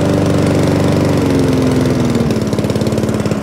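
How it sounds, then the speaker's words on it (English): A small petrol Mountfield SV RV 150 lawnmower engine runs loudly and steadily at full revs, its pitch sinking as the revs drop to a lumpy, pulsing idle. "And idles now all the way down as it should do."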